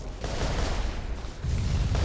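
A robot blowing itself up in the mech combat game War Robots, a dense, loud rumbling blast that fills the whole moment with a second surge near the end, no speech over it.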